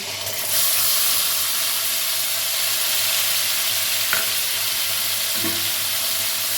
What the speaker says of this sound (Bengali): এবার এতে আমি দেবো কালো জিরে, দেব যে কাঁচা লঙ্কা টমেটো পেস্ট করে রেখেছিলাম সেটা দিচ্ছি